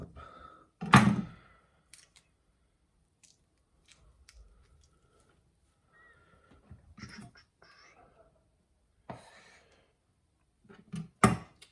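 A knife cuts through a vegetarian sushi roll in a few separate, soft thunks and slicing sounds, spaced out across near silence.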